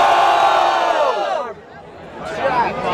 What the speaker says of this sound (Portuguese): Barulho pras rimas do Thiago!